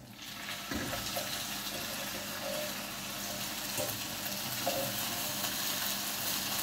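Galettes fry gently in a pan over very low heat, a soft, steady sizzle with faint crackles throughout and a few small ticks, quiet and with no talking.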